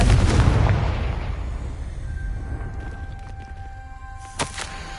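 A Confringo spell blast from the video game Hogwarts Legacy bursts loudly at the start, a heavy booming impact that rolls off into a long decaying rumble with faint magical tones lingering, followed by a small sharp pop near the end.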